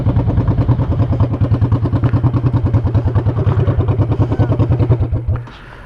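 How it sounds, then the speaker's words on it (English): Loud motorcycle engine running close by with a heavy, rhythmic, low-pitched thumping beat for about five seconds before cutting off abruptly into quiet. "I was telling everybody how loud that bike is."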